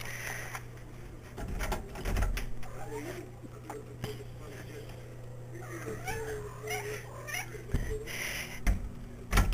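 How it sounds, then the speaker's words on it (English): A black Burmese cat meows indoors in a few wavering, drawn-out cries over a steady low electrical hum, with faint scraping and rustling in between. "my best little friend Charlie, my black Burmese cat, into the room with me because he was scratching at the door"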